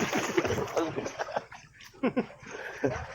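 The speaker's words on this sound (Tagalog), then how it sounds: "Dinig yung tubig." Water splashes and sloshes at a resort, with bursts of splashing scattered through a few seconds while people talk and laugh close by.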